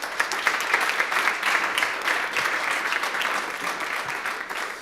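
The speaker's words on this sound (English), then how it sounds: "a round of applause to you." A conference audience at a European data summit claps steadily for almost five seconds, a dense, even patter of many hands at moderate loudness with no voices over it.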